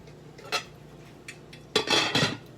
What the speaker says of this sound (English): Put the lid.